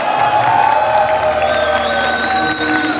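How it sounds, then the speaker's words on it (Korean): A large crowd claps and cheers steadily, a loud continuous wash of applause with some shouts mixed in. "큰 박수 부탁드리겠습니다."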